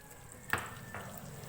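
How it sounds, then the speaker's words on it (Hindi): Sliced onion frying in melted butter over a medium flame, with a quiet continuous sizzle and two brief stirring scrapes in the pan. "इसको मीडियम फ्लेम पे हल्का सा फ्राई करेंगे।"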